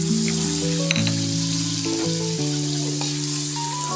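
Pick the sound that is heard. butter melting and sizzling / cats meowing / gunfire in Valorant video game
butter melting and sizzling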